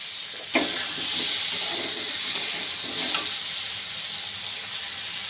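Chopped tomato and grated ginger hit hot oil in a pan with a sudden loud sizzle, then a steady hiss of frying with a couple of stirring scrapes, close by.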